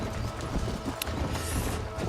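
Horse hooves running in the game Red Dead Redemption, a fast continuous clatter of clip-clop beats, loud and close over a rumbling bed, with no talk over it.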